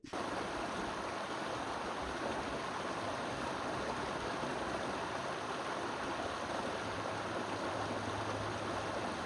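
The Medina River flows with a steady, broad rushing hiss, an even wash of water noise that continues without pause.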